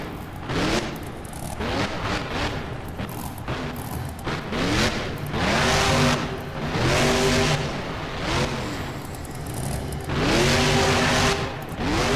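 A monster truck engine roars and revs in BeamNG as the truck drives up and over a bus at a freestyle event, rising and falling in loud surges with brief tire squeals.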